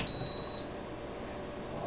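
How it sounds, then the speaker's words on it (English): A single short high electronic beep from an induction cooktop as it is plugged in, followed by quiet room tone. "And I'm plugging it in, you'll hear a beep."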